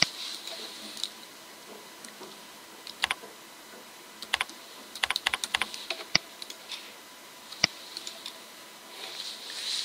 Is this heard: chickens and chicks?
no